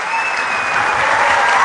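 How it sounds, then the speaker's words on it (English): A large university audience breaks into loud, dense applause to welcome cricketer Jonty Rhodes to a lecture on fielding, a continuous roar of many hands that swells slightly without a pause. "Welcome him with a thunderous round of applause."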